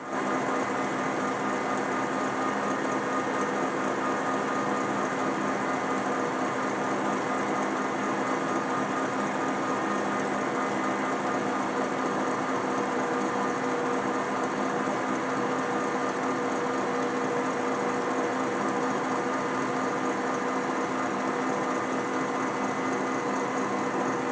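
Egg whites being whipped for butterscotch meringue cookies, a continuous high-pitched electric mixer whir that stays loud and steady throughout without pauses or voices.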